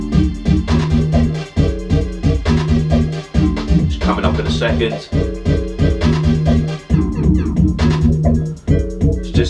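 A grime instrumental plays loud, with punchy beats and repeating synth stabs moving from chorus into verse, and someone talks briefly over the music.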